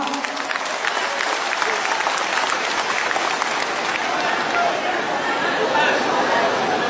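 A crowd at an Indonesian political rally applauds the supporting parties, loud sustained clapping mixed with crowd chatter and babble throughout.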